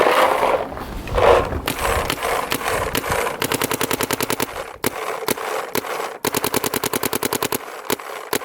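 A Planet Eclipse CS2 paintball marker with its original aluminum front barrel fires in rapid, evenly spaced bursts of sharp cracks, close and loud, with short pauses between strings.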